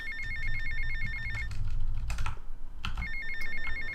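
An in-game phone in GTA: Vice City rings with rapid trilling electronic bursts, cut off for a stretch by clattering keyboard taps and thumps, then the ringing resumes, loud and close.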